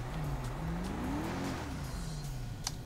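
An Enus Windsor car in GTA V Online, a steady engine drone that rises and dips in pitch as the car accelerates and shifts, with a brief tire squeal near the end.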